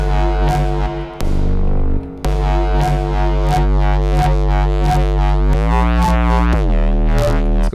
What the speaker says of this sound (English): just take a listen to how this bass sounds with this chorus